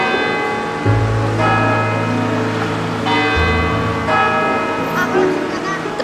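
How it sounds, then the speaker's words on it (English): St. Joseph Cathedral's church bell in Hanoi rings out in loud, resonant strikes with long ringing decay, several tolls overlapping over a low hum of city ambience. "The bell just rang."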